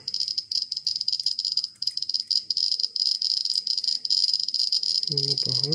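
Dense, rapid clicking from a Geiger counter dosimeter detecting alpha particles through a mylar window, a steady fast crackle with a short voice entering near the end.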